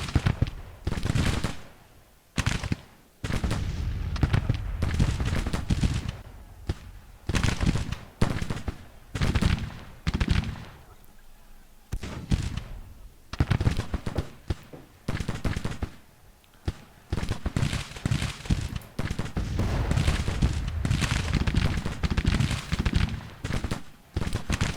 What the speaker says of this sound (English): The 14-pounder James with the 2nd US artillery with their 14-pounder James are opening up on the battlefield.